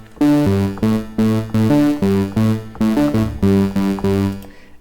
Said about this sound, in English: It's a Spring Reverb.